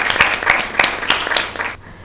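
Audience applause for a correct answer at a Bible quiz show, a short burst of many hands clapping close and lively for under two seconds before cutting off abruptly.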